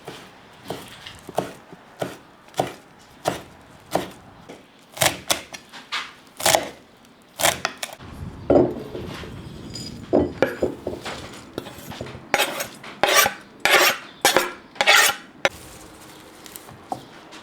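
Repeated knife strikes chopping tarragon on a cutting board, sharp close taps in an irregular rhythm, a short pause, then a faster run of chops.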